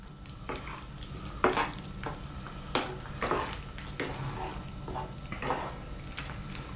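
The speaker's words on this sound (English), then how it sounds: "Now let's stir them in." Ingredients being stirred into a bubbling chicken curry in a pan, with a spoon scraping and clacking in irregular strokes over a steady sizzle, close and clear.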